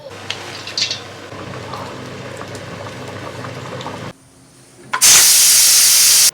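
Pressure cooker stewing a large beef hoof, first a low bubbling rumble, a brief lull, then a sudden loud, sustained rush of steam hissing from the valve, close.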